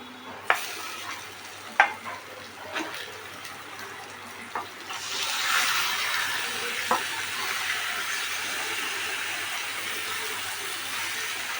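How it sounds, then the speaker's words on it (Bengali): Onions fry in oil with salt, a soft crackle with a few sharp clicks at first, then a fuller, louder sizzle that holds steady to the end. "পেঁয়াজটা দিয়ে ভালো করে লাল লাল করে ভেজে নিতে হবে নুন দিয়ে"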